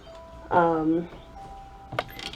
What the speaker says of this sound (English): If you heard my phone just chime